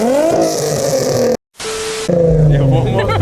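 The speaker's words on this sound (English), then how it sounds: "one more car interrupt me while I'm doing my intro" A car passes and revs loudly close by at a car meet, its engine roar rising and falling across most of the moment, broken by a brief gap of near silence, with a voice talking over it.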